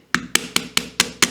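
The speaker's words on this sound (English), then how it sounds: "just a little tap down with the hammer just to get everything to sit in" A hammer taps wooden joints of a Japanese-style shoji lamp into place: six crisp, evenly spaced knocks in quick succession, close and clear with nothing else around.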